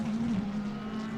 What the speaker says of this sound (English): Just ahead of Daniel Fardy, the Formula 1000 car, going nicely, holding back that F3 car.